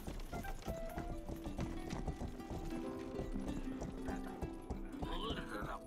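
Horse hooves clip-clop in a steady run with a neigh near the end, from the video game Rustler, set under background game music and a faint voice.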